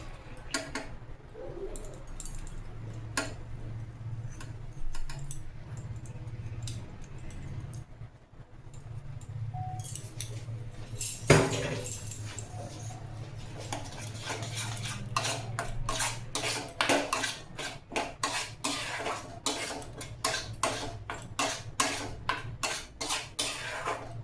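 Tomato chutney with tamarind pulp stirred in a pan: quiet, scattered spoon clinks at first, then a quicker, steady run of close scraping and clicking against the metal, with no voices.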